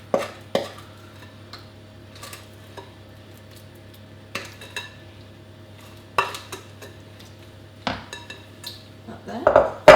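Thick carrot cake batter is scraped out of a mixing bowl with a spoon: scattered clinks and scrapes against the bowl separated by quiet pauses, with a brief cluster of knocks near the end.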